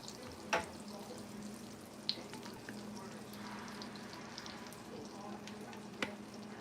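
Four tablespoons of melted butter sizzling in a pan for mac and cheese, a quiet steady crackle and hiss close by with a few sharp clinks from a utensil.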